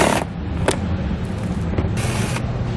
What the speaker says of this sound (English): we're going to remove the 4 bolts that go underneath our front mud flap here. Remove those with a 7mm socket.